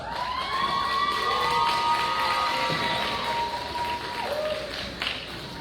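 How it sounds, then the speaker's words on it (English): Graduates at a 2023 high school graduation ceremony applaud and cheer for their families, a sustained mix of clapping, shouts and whoops from a large crowd, fairly distant and steady, with high cheering voices rising above it. "I would like all of the graduates to turn around and give your family a round of applause."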